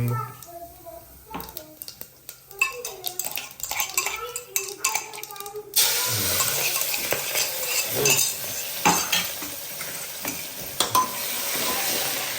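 Cumin and asafoetida tempering in a pan for khichdi, a steady sizzle and frying hiss rising after a spatula stirs and clinks against the pan, with people talking throughout.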